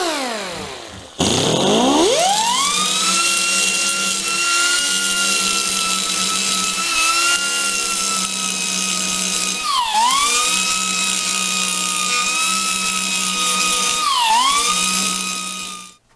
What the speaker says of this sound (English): I can cut, I can grind.